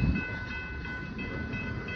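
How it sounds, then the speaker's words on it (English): A tanker freight train rolls past at a train meet, a steady low rumble of wagons close by with a faint high tonal whine over it, continuous and unbroken for the whole moment. "There comes the other train."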